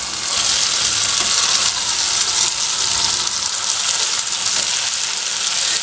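Sardines dropped into masala in a hot pan set off a loud, steady sizzle and frying hiss that fills the whole stretch without a break.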